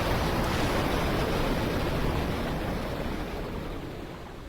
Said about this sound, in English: We now have water.